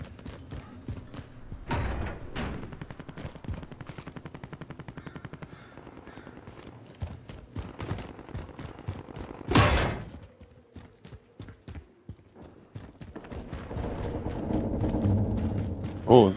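Rapid bursts of automatic gunfire crackle in a warzone video game, clusters of sharp cracks coming in stretches with pauses between, followed by rising mechanical rumble and noise toward the end.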